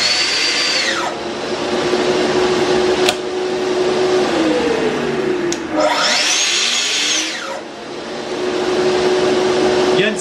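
A Festool TS-55 track saw runs loud with a steady whining motor, then cuts through wood in two long passes, its pitch sagging under load before spinning back up, with a brief lull between cuts.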